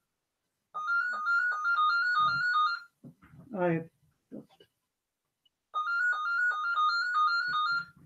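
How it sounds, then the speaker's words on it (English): A telephone ringtone plays a bright, repeating electronic trill in two clear bursts, loud and close, with a person speaking briefly in the pause between the rings. "oh, that was telephone."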